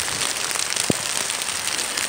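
Heavy rain pours down in a steady, dense hiss that fills the whole stretch, with one sharp tap or drip standing out near the middle; no one speaks.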